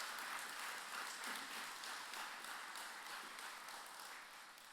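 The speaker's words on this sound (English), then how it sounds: "And I think that deserves a big round of applause." Audience at an NSCC Kingstec Campus college convocation applauding, a steady, dense wash of clapping from a large crowd heard at some distance, fading slightly at the close.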